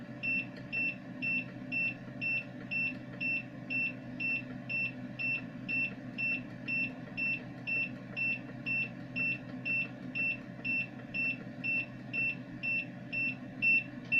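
An Edecoa 1500 watt inverter sounds its low-voltage alarm as a steady series of high electronic beeps, about two per second, over a constant low hum, with no talking.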